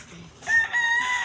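Chickens with a rooster crowing close by at watering time, a clear rising crow with harmonic bands over light clucking, brief and fairly loud.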